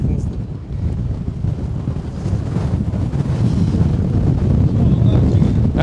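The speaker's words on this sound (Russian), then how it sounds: "Вот такой у нас сегодня ветер." Strong wind buffets the microphone in a constant roaring rush that grows louder toward the end, with faint voices underneath.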